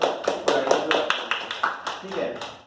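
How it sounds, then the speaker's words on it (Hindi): Children clap for a spelling bee rank holder at a coaching institute, a quick run of sharp, uneven claps from a small group, close by, with a person speaking over them. "जोरदार ताली सभी बच्चे आपको"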